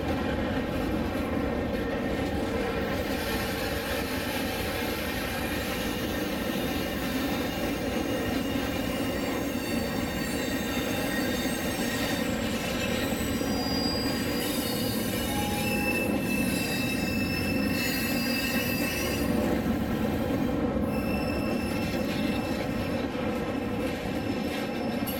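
A heavy diesel freight train climbs a grade nearby for the whole stretch, with high metallic wheel squeals drifting in and out over the low engine drone.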